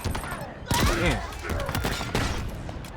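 Gunfire in the Halo Infinite video game, a burst of rapid in-game shots with swooping sci-fi effects over busy game noise, close and fairly loud.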